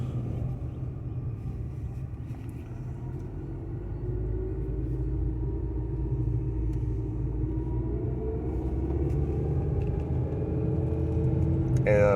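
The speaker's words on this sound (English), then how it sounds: "One thing I've noticed with these cars is that you have a lot of road noise." Road noise inside a manual Nissan Versa with high mileage driving slowly through a parking lot, a steady low engine and tire rumble that gradually swells, with no talking over it.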